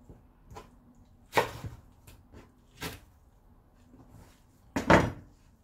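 A knife chops blanched spring spinach on a board, making irregular soft thunks; three sharper, louder strikes stand out among quieter cuts, up close with no talking.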